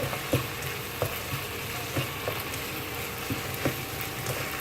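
Pasta and vegetables cook in a hot pan with a steady close sizzle and faint crackle, punctuated by soft regular knocks and scrapes of stirring.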